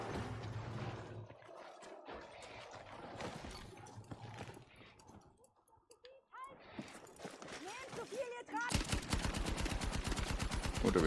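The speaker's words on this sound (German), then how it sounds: "Oh, da wird schon geschossen." Gunfire in the Battlefield 6 video game: scattered shots under German-speaking players' chatter, ending in a loud, rapid automatic burst of fire.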